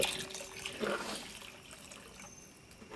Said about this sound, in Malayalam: ഒരു 3/4 കപ്പ് നമ്മൾ ഒഴിച്ചിട്ടുണ്ട് കേട്ടോ